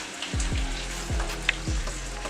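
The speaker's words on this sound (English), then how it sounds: "I'm going to put on some shrimp, cook through 2 to 3 minutes, not too long, just to give it a little sear" Shrimp searing in a hot pan, a soft continuous sizzle with several low thumps and taps of the pan or utensil, close up and without talk.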